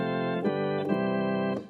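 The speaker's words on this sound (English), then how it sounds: "It sounds like kind of like a pipe organ." A short, steady Nord Stage 3 organ passage with a few chord changes, played without a rotary speaker. The tone is dry, static and pipe-organ-like and fades out at the end.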